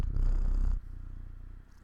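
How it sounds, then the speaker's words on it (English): Low rhythmic purring of a cat, close and intimate, loud at first then softer and steady. "He's purring. Listen."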